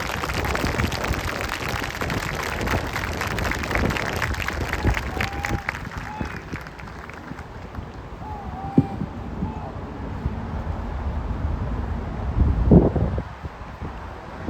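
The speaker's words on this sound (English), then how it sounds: "Please join me in a round of applause for the honor graduates and all awardees." An audience at a military training graduation ceremony applauds the honor graduates and awardees. Broad clapping runs for the first several seconds, then thins and fades into outdoor wind noise, with a few faint voices and thumps.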